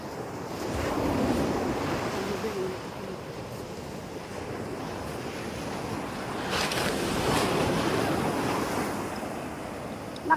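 Ocean surf washing onto a beach in Ilocos Sur, a steady broad rush of waves with swells rising and falling, wind buffeting the microphone throughout, no voices.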